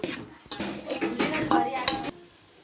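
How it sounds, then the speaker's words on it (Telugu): Onions being fried and stirred in a metal pan for a drumstick and milk curry, heard as a few close, sharp clatters of a utensil scraping and knocking against the pan over a low background. "ఇప్పుడు ఈ ఉల్లిపాయలను బాగా ఫ్రై చేసుకుందాము"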